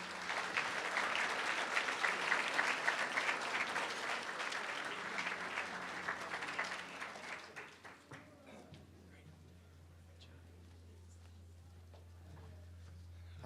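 Applause from a ribbon-cutting crowd at a community center grand opening: a dense, steady wash of clapping that holds for about seven seconds and then tapers off into quiet room tone.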